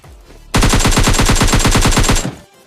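Sustained automatic weapon burst in PUBG Mobile Lite, a rapid, even stream of about twenty loud, close shots lasting nearly two seconds before cutting off, with no talk.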